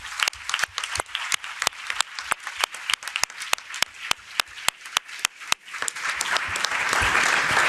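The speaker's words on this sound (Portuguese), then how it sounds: "yo pediría que todos le diéramos un aplauso de homenaje al historiador Eusebio Leal" An audience at a solidarity forum applauds in tribute to historian Eusebio Leal, starting with sharp, evenly spaced claps that swell into a fuller, continuous round of applause near the end.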